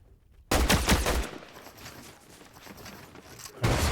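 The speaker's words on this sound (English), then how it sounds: "Someone shooting him." Video game gunfire erupts in a loud burst of rapid shots, then drops to a quieter stretch of scattered fire before another loud volley starts at the end.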